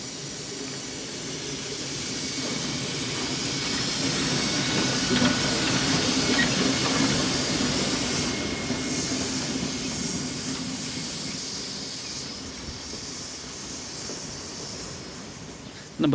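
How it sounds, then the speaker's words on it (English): Slovenian locomotive loose-shunting an Austrian locomotive through a station, rumbling wheels and hiss swelling as it draws nearer, then easing off, with faint background voices. "For every train that arrives, the Slovenian locomotive loose shunts the Austrian loco back through the station."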